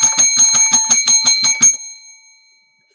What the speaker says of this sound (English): You like to hear my bell